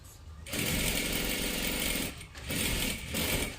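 A sewing machine runs in steady bursts, stitching along the edge of folded fabric for a top or salwar, with short pauses between runs; loud and close, with no talk over it.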